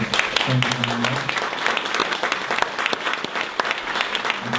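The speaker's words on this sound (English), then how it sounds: "let's give them a big round of applause" Applause for the panelists at a Facebook marketing panel event, dense clapping filling the room, with a brief hum of voices near the start.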